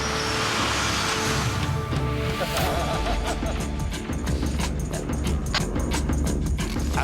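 Heavy tow trucks strain under load, hauling nearly 80,000 pounds of truck as power is eased on, a dense, steady engine roar with rumbling low end and scattered clicks and rattles throughout.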